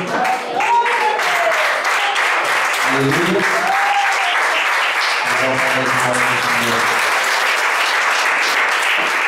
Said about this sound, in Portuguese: Podeis assentar e assentando palmas bem alegre para Jesus